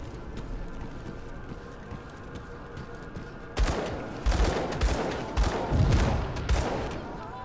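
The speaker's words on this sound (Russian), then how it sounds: "Вот это выстрел. А это от какого-то пистолета, значит." Pistol gunshots in the dark fantasy video game Grim Dawn: a run of sharp, loud reports in quick succession, starting abruptly midway and repeating irregularly over a low ambient game background.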